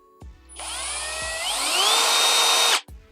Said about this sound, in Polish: Przy wkręcaniu i przy ustawionym sprzęgle mamy wolny start.